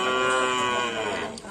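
Cattle at a Lombok bull-racing training ground give one long, loud, close moo that holds steady and fades at the end, with no talking.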